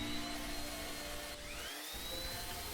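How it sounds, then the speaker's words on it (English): A steady high-pitched electric orbital sander whine, wet sanding a concrete fire pit, rising slightly in pitch partway through, runs continuously and close by. "he's using an electric orbital sander and he's wet sanding with it"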